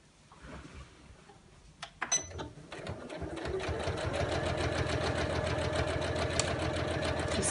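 A sewing machine stitching around an appliqué lined shopping tote bag: a few faint handling clicks, then the machine starts up and settles into a fast, steady, close mechanical chatter that runs to the end.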